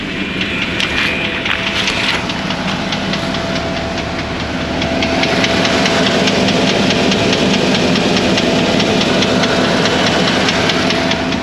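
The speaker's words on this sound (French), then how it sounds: "le bruit, en fait, le cliquetis s'intensifie avec le temps" A running engine with a rapid, steady ticking clatter, continuous and fairly loud throughout, growing slightly fuller partway through.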